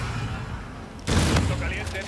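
Call of Duty Infinite Warfare gameplay: quieter in-game ambience gives way to a sudden loud burst of rapid gunfire, followed by fading echoes and scattered game sounds.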